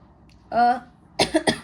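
A short throat sound followed by a quick burst of two or three harsh coughs, close and fairly loud.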